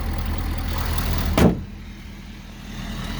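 A 2016 Ford F-250 Super Duty Lariat with a custom lift runs its 6.7 liter Powerstroke turbo diesel in a steady low rumble, broken by one sharp thud partway through.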